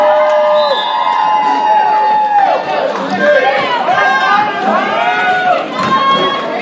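Roller derby crowd cheering and whooping for the Central Michigan Mayhem team, a loud, sustained roar of many voices with shouts and whistles throughout.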